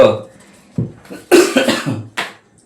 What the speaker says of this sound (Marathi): थोडासा खोकला झालाय